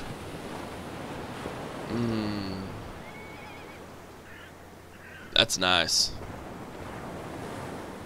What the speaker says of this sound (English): Nice calming sound of the ocean.